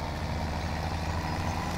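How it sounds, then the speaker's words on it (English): A tractor engine idles in Farming Simulator 17, a steady, loud, low rumbling drone that holds unchanged throughout with no talking. "Let's grab a tractor."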